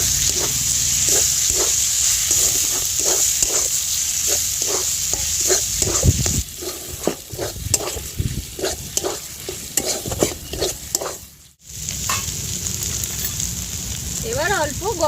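An egg is cracked into a hot pan with spiced potatoes and sizzles steadily as it fries, while a spoon stirs and scrapes in a repeated rhythm and a brief hiss of oil rises near the end.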